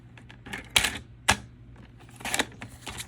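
A paper trimmer cuts through cardstock with a few short, sharp clicks and a couple of louder snaps as the blade slides, close and quiet, with no talking.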